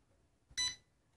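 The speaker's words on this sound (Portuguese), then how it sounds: "Deu o bip, parou onde deu o bip, ele já parou de piscar" A single short electronic beep from a WLToys V272 mini drone confirming binding, bright and brief, standing out against near silence.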